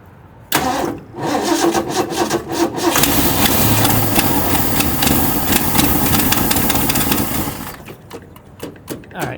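A 1966 Mustang engine cranks loudly with a rapid, rhythmic churning for several seconds, then slows and sputters out without catching, with a voice heard faintly nearby.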